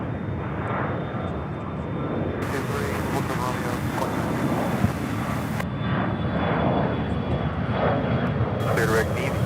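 A Boeing 777 airliner's jet engines at Charlotte airport hold a steady, loud rumbling roar that swells slightly toward the end, with intermittent hissy bursts of radio chatter layered over it.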